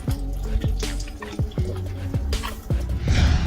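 Meltwater from snow on a roof drips steadily, with repeated close, plinking drops falling into water in an uneven rhythm, plus some wetter splashing toward the end.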